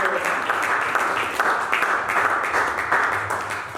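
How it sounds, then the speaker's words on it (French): A church congregation applauding and cheering in acclaim of Jesus during a French-language service, a sustained burst of clapping and voices. "Acclame Jésus"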